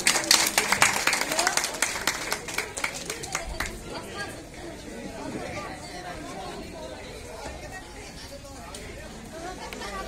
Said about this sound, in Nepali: कृपया जोरदार तालीले उहाँलाई स्वागत गरिदिनु होला।